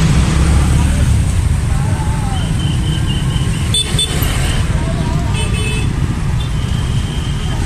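Stalled traffic at the JPL 46 railway level crossing in Pondok Jati, with a steady roadway rumble of idling cars and motorbikes and a few short horn toots rising over it, and a voice talking nearby.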